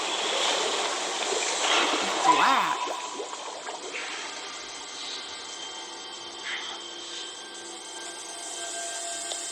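Water roars through faulty household plumbing, a steady rushing hiss that surges early and then settles into a constant flow, with a brief spoken remark over it.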